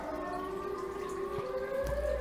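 Siren Head's wailing siren in a modded Minecraft Java Edition game, a sustained droning tone with steady harmonics that holds level, then a low rumble thuds in near the end.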